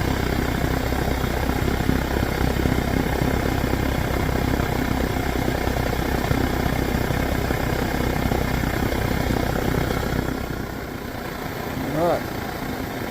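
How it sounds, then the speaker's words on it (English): Primus torch burning with a steady, loud roar like a small jet engine, continuous and close for most of the span before easing slightly near the end. "There's that Primus roar."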